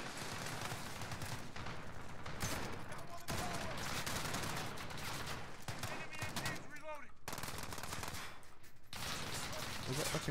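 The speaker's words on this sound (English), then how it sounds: "Is that fucking Uzi shooting over there or something?" Continuous, heavy automatic gunfire in the video game Modern Warfare, an Uzi among the weapons, with dense overlapping bursts filling the whole stretch and a few brief pauses, plus a faint voice underneath.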